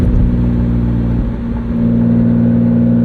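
A Rolls-Royce Wraith engine revs loudly and close, a steady droning roar with a brief dip in the middle before climbing back up, heard alone without talk.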